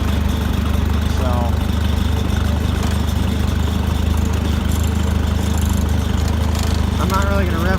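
A car engine idles steadily after a cold start on a freezing day, a constant loud rumble throughout with a few faint whines above it.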